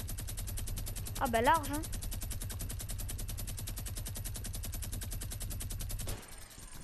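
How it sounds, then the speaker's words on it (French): Minigun firing in Fortnite, an unbroken rapid rattle of shots that runs for about six seconds and then stops abruptly, with a brief voice speaking over the gunfire near the start. "Minigun."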